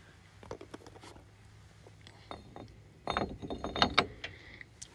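A ratchet with a 17mm socket starts lug nuts onto ATV wheel spacers, a close sequence of light metallic clicks and clinks that gets busier and louder toward the end.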